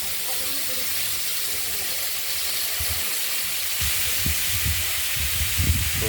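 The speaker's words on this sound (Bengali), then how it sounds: "তেলটা যেহেতু গরম হয়ে গেছে, কিন্তু কুমড়োগুলো ছেড়ে দিই।" Pumpkin pieces coated in salt and turmeric go into hot oil with mustard seed tempering and fresh green chilli. The result is a loud, continuous frying hiss, with a voice speaking faintly underneath.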